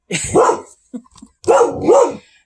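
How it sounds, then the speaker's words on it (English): A dog barks loudly and close by: one bark, a short pause with small yips, then two more full barks in quick succession, heard alone without talk. "She's going to keep barking until the bus picks them up."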